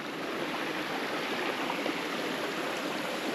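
A river stream on a Guam waterfall hike flows steadily at a major fork, with a constant, full rushing wash close by and no voices.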